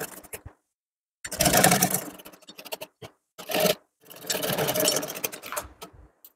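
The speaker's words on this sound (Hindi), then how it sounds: "कोई भी कैसे भी लेके आप इसको इस तरह से स्टिच कर लेंगे।" A sewing machine stitches fabric for a small devotional dress in three separate bursts, each a fast, steady mechanical whirring rattle heard up close with short quiet pauses between.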